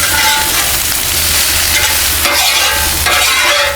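Chicken for cheesesteaks sizzling on a Blackstone flat top griddle over low heat, a loud, close, continuous hiss with spatula scrapes and stirring bursts near the end, no one speaking.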